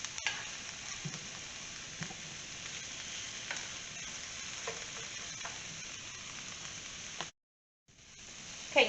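Chopped onion, carrots and celery fry in a pan for a chicken pot pie, giving a steady, close sizzle with occasional soft stirring scrapes and a brief drop to silence near the end.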